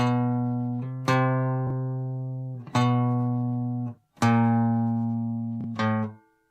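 A guitar plays the Spider exercise with detached notes, each ringing note cut off before the next begins, leaving small breaks between five or six clear, close plucked tones.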